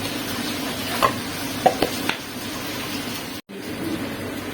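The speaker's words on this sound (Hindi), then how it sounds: "हम प्याज और लहसुन अदरक के पेस्ट को भून रहे हैं" Onion and garlic-ginger paste fry in a pan with a steady close sizzle, a few scrapes of stirring, and a brief dropout of sound near the end.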